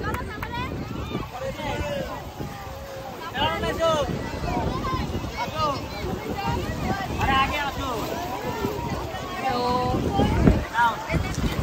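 Wind buffets a boat out on the open sea, a constant rushing roar with water noise, while a crowd of voices chatters and calls out throughout.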